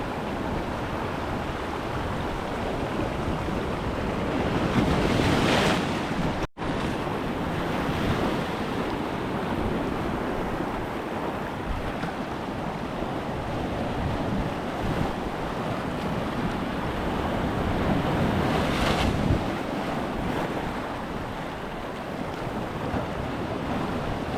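Strong sea waves surge and break on a Mumbai shore, a loud continuous roar of surf with wind buffeting the microphone, swelling around the middle and late parts, with one abrupt brief dropout.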